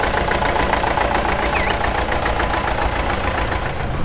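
A Farmall International Harvester D450 diesel tractor from the 66 series runs steadily in a Red Power Roundup parade, its loud engine chugging continuously with no break and no talk over it.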